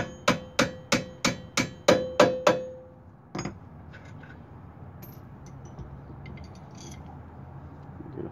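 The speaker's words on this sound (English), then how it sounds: "Grab your hammer so you can push it out." Eight evenly spaced metallic hammer blows driving a bolt out of a Hyundai Sonata's rear brake assembly ring out close and loud, followed by one more strike and a low mechanical rumble.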